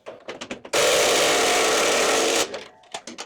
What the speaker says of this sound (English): I'm having to use the spanner on that just to loosen it